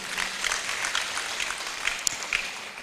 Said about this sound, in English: I think the Chief Justice deserves a round of applause.